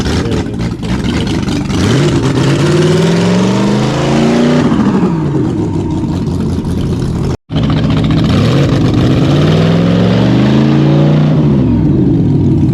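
A Highboy hot rod's 59A flathead engine with Harrell heads revs hard and loud, rising and falling through several throttle blips, with a brief cut midway before revving again.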